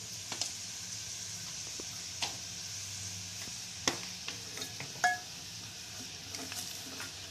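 Bombil (Bombay duck) frying with masala in a pan, with a quiet, steady sizzle and a few soft scrapes and clinks from stirring scattered across it, close by and without speech.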